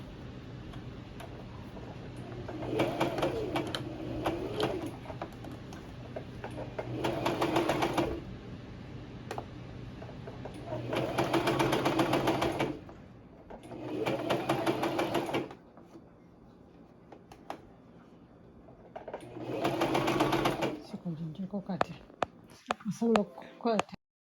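A sewing machine stitching horsehair braid along the hem of a gown, running slowly in several separate bursts of rapid ticking, with quiet pauses between runs and handling noises near the end.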